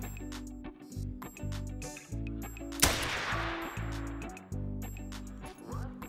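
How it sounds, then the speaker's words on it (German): In theHunter: Call of the Wild, a single sharp shot from a hunting rifle zeroed at 100 meters cracks out midway through, loud and abrupt, over steady background music. "Ein Schuss und er liegt."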